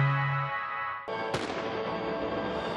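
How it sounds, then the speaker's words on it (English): Fireworks burst at a Christmas tree lighting in northern Portugal, two sharp booms a moment apart that roll into a long rumbling echo, loud and outdoors, following a fading sustained orchestral note. "Dramatic fireworks and orchestral music heralded in the Christmas season in northern Portugal."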